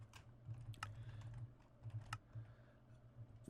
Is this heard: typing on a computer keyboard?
yes